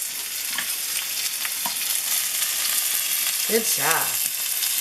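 A tomahawk ribeye steak being reverse seared and pressed down in a hot pan with garlic and butter gives a loud, steady sizzle throughout, with brief voices speaking over it.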